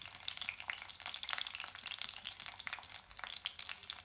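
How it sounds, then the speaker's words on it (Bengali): A spoonful of black cumin seeds (nigella) fries in a pan for a village-style leafy greens dish, a faint, bright crackling sizzle with scattered pops and light stirring, heard close and with no voices. "কালো জিরা 1 চামচ দিয়ে দিচ্ছি এখানে। দিয়ে এটা একটু ভাজবো।"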